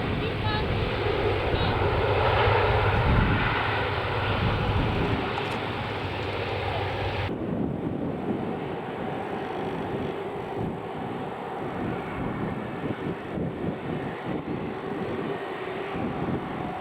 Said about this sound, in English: making its way onto the runway now is the TUI 737 MAX 8 going to Espargos